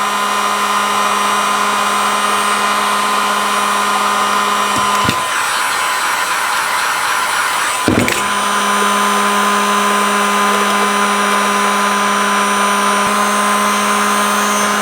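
A heat gun on a low setting blows steadily across a cell camera antenna, a continuous broadband whoosh with a steady motor hum, briefly dipping and shifting near the middle.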